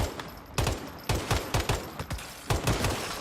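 Rifle gunfire in the game Stalker 2, a series of loud sharp shots in quick irregular bursts of two or three, close and dry, with no voices.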